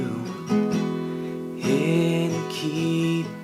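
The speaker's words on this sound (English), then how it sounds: "we're going to use the same chord progression for the verse." An acoustic guitar with a capo plays a worship-song verse chord progression, ringing chords that sustain and change twice, moderately loud and steady.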